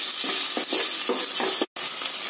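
Steady sizzling and frying of tomato-garlic paste in a pan, with soft stirring scrapes repeating under the hiss, close and fairly loud, broken by one brief silent gap.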